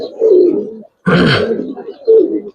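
Giribaz pigeons at a pigeon farm give close, throaty cooing in several short bursts, broken by a brief louder rough burst partway through.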